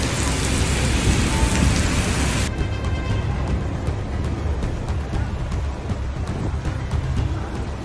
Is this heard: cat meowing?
no